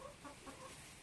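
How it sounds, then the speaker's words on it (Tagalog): Chickens sheltering behind a house cluck softly in a short, brief stretch, the low murmuring calls close but muffled under steady background noise. "Mga manok."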